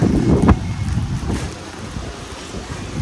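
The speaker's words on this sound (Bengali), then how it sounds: "কি সুন্দর হাওয়া, তাই না বলো?" Wind gusting across an open rooftop after days of rain, a continuous rumbling buffet of air striking the microphone, strongest at the start and easing later.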